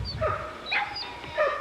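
Pit bull game dog at a kennel straining against its chain, giving a few short whines and yips in bursts, fairly close, with chain noise and rustle beneath.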